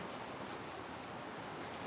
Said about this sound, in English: The rain is going crazy.